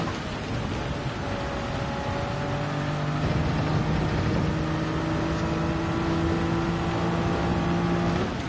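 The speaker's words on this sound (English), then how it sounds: "Need to downshift into here." A racing car engine drones at Spa-Francorchamps in Gran Turismo 7, its tone shifting as it downshifts, a steady loud roar under dense track noise, with no talking.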